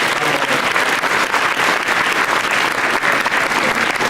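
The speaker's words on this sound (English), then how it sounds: "if we can give them a round of applause" Loud, dense applause from an audience congratulating students, a continuous close wash of many hands clapping throughout.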